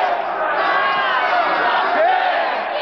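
A wrestling crowd at an XPW show chants a count in unison as a wrestler pounds his opponent's head with punches, a loud, steady, close roar of many voices.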